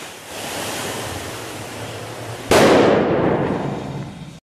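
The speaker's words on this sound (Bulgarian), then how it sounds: "Пиратка!" A firecracker bursts with a sudden loud bang partway through, its echo and crackle fading over a couple of seconds, after steady wind and rushing water near a small waterfall in Varna.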